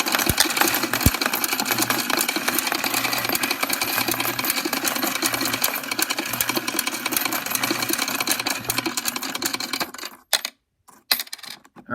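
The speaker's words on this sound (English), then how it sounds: "Here's all my wheat pennies into the machine." Royal Sovereign CO-1000 coin sorter sorting a batch of pennies, a dense, continuous rattling clatter of coins under a motor hum that stops abruptly, followed by a few scattered clinks.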